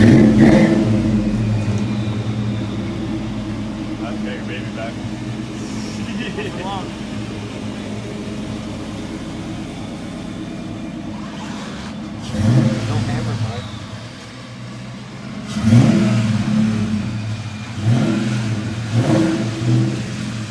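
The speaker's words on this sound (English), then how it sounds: "That's good, the car started on the first" A car engine turns over and runs, then revs in several rising bursts partway through, with people talking over the engine's steady hum.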